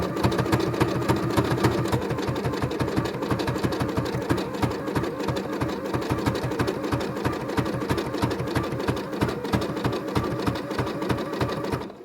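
Sewing machine stitching a fabric jelly roll rug tube, a fast steady mechanical chatter with even rhythmic pulses, close and continuous throughout.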